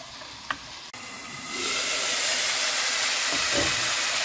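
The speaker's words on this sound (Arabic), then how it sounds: "وهسه أقلب إلى أن تذوب الزبدة وأيضا يذوب الشحم" Beef pieces stirred in a pot as butter and fat melt, a soft clatter followed by a frying sizzle that swells up and then holds as a steady, close hiss.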